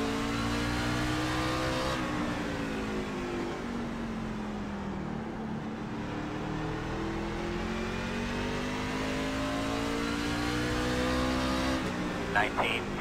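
Simulated NASCAR truck engine racing at Martinsville in iRacing, a loud sustained drone that rises and falls in pitch with gear changes and throttle, nearby and constant throughout.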